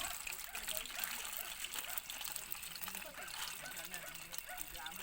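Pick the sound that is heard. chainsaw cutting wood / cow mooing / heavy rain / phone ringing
heavy rain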